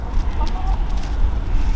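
Chickens cluck softly at a campsite near Dubbo while being fed, their calls faint over a steady low rumble of background noise.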